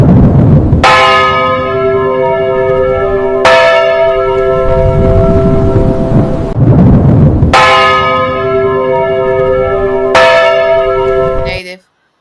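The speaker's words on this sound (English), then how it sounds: "Was the bell tower too loud that time?" Large bell-tower bells ring out loud and close in four heavy strikes, each with a long humming, overtone-rich decay before the next blow, cutting off abruptly at the end.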